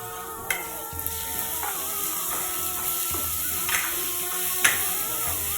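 Chopped tomatoes with salt sautéing in a pan for matki bhaji, a low steady sizzle with a few sharp utensil taps and scrapes, close and unaccompanied by talk.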